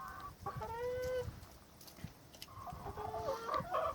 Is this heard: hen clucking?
yes